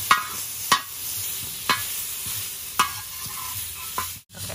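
Burger buns toasting on a hot griddle give off a continuous close sizzle, broken by a few sharp scraping clicks at regular intervals; no voices.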